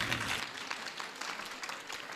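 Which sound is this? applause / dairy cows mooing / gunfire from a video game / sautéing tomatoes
applause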